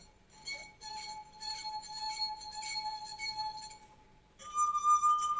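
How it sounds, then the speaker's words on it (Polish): An empty wine glass rim is rubbed to a pure ringing tone, sustained and faint at first, then shifting to a louder, higher pitch near the end. "gada w pustym kieliszku"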